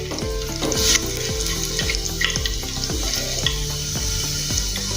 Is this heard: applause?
no